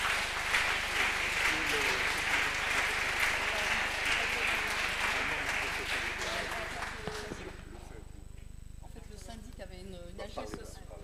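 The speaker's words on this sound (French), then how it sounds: "Sous vos applaudissements, bien évidemment" An audience applauds at an awards ceremony for sustainable housing trophies, with sustained dense clapping that fades out after about seven seconds, leaving quiet room noise and a few voices.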